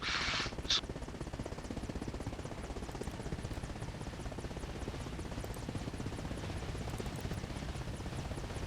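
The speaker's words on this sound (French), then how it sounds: "on monte dans l'hélicoptère" Helicopter in the video game Arma Reforger, a steady close rotor thrum and engine whine running without pause the whole time, with a brief higher burst near the start.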